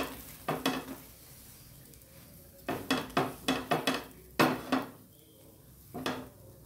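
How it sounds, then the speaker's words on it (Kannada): A spatula or utensil knocks and scrapes in a pan of oil on the stove for paneer parota, in several short bursts separated by pauses, close and moderately loud over a faint sizzle. "ಅದಕ್ಕೆ ಸ್ವಲ್ಪ ಎಣ್ಣೆ ಹಾಕ್ಕೋತೀನಿ. ಕೇಳಿಸ್ಕೊಳ್ಳೋಣ ಅದು."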